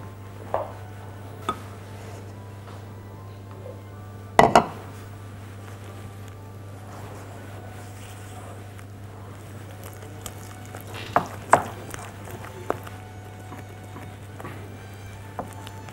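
Pomegranate molasses, powdered sugar and cream being mixed in a bowl, with soft steady stirring broken by a few sharp clinks of the utensil against the bowl, over a constant low hum.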